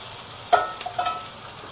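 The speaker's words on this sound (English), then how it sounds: "And we caramelize the garlic and the onion a little bit" Garlic and onion sizzling in hot oil in a pan while being stirred, a soft frying hiss with a couple of brief scraping bursts.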